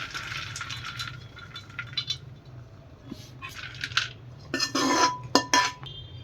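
Fried dry fruits scraped from a kadhai onto a plate, with a run of metallic spoon clinks and scrapes, sparse at first then a busier burst of sharp clatter near the end, fairly close.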